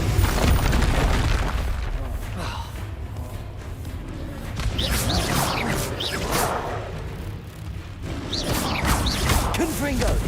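Repeated Confringo fire-blast spells go off in Hogwarts Legacy, booming thuds and crackling bursts over a rumbling low-end game soundtrack, with shouted voices in between.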